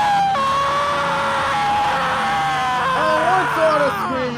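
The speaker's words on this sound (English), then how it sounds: "In terror, Humphrey let out a horrified scream." A voiced character's horrified scream from a story set among model railway engines: one sustained, wavering high cry that carries loud and unbroken through the whole moment, with no other sound over it.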